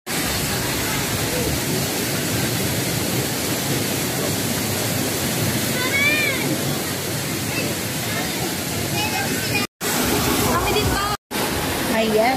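Tanawan Falls pours a steady, loud rushing hiss of falling water that fills the whole scene. Voices talk faintly underneath, and the sound cuts out twice near the end.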